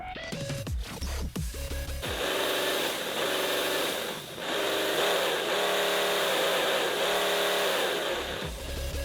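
A model engine, shaken by a servo motor, rumbles with a pulsing, uneven throb that rises and dips for several seconds, with no talking.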